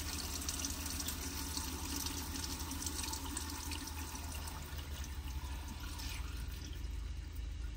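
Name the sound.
water stream from RV faucet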